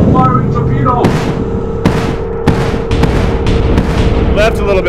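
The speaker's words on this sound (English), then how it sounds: "Firing torpedo!" A torpedo launches in the IronWolf VR submarine game, heard as several booming thumps and whooshes over a steady low hum of the boat, loud and close amid other game noise.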